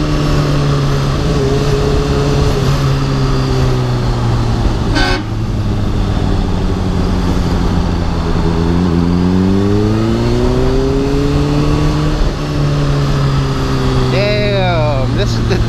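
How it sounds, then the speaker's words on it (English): Riding a 2013 Honda CBR600RR through busy road traffic brings a constant wash of wind and engine drone, with nearby vehicles rising and falling in pitch as they pass, and a short horn-like tone near the end. "this is the traffic I gotta deal with"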